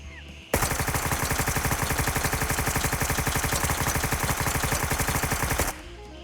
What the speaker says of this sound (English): This is the AK-12 in full auto, 60 round mag with FMJ loaded.